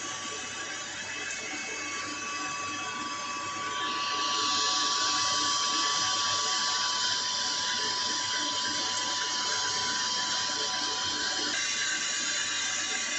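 A lathe machines a bushing in a steady, close metallic whir with a constant tone and a grainy cutting hiss that gets louder partway through and then holds.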